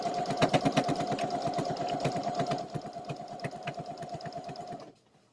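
A sewing machine stitches fabric in a steady, rapid mechanical rhythm with a humming tone and dense needle beats, close and loud, slowing slightly near the end before stopping abruptly.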